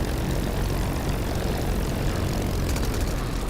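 A Spitfire LF Mk IX piston propeller engine drones loudly and evenly while taxiing in the DCS 1.5 flight simulator, a steady close rumble with a throbbing prop beat.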